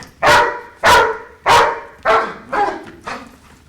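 A police K9 dog with the Mason County Sheriff's unit barks during law-enforcement training: six loud, sharp barks at an even pace, close by, the last few slightly weaker.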